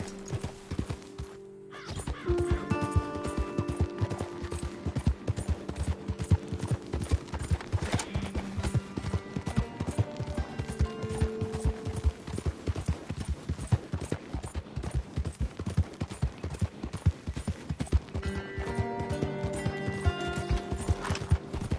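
Horse hooves gallop at a steady, rapid clip-clop in the video game Red Dead Redemption 2, close and continuous, with occasional snorts and tonal game music or ambience underneath and a brief pause near the start.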